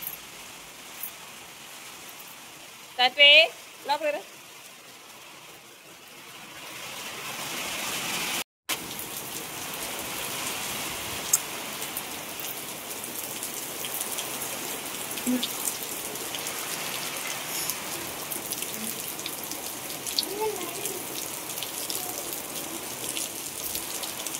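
Rain falls steadily around a house in a soft, even patter of drops on surfaces, continuous and fairly quiet throughout, with a few brief louder sounds early on.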